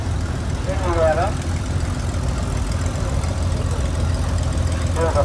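Antique demonstrator tractor engines idle and rumble at a tractor parade, a steady low chugging drone close by with a voice talking over it briefly.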